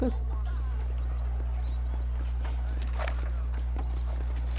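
Horse hooves clip-clop at a steady walking rhythm in the western game Red Dead Redemption, light regular taps over a constant low hum with faint ambient background.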